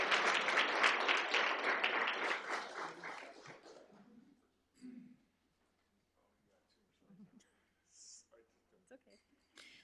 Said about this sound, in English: How about another round of applause for our top scholars?